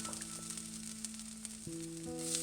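Chili flakes and cumin seeds sizzling in a hot frying pan, a close crackling fry with small pops over a low sustained hum that steps in pitch, no voices.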